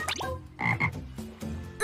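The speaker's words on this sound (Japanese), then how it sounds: "なんだカエルか。" Frog croaking close by in short, raspy bursts with brief gaps between them, heard on its own in a setting of scavenged junk.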